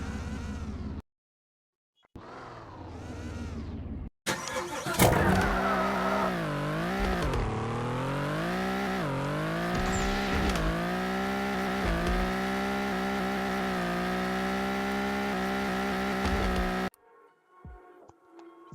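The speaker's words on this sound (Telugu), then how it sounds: "అన్న కార్ ఇది." A car engine revs hard in loud, close bursts, its pitch climbing and falling through repeated surges after a few short opening blips, then cutting off abruptly.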